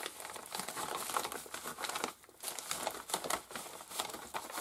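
Paper crinkling and rustling up close as items are packed into an envelope. The sound is quiet and comes in irregular handled bursts with a brief pause midway, and no voice is heard.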